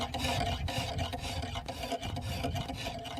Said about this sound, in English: Makes it real easy to get a nice, clean, even bevel across the knife.